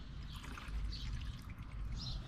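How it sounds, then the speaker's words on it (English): Kerosene trickling and dribbling as it is poured into the fuel tank of a Dietz lantern, a quiet steady liquid pour over low background rumble. "I'm gonna go ahead and fill these up the rest of the way with fuel"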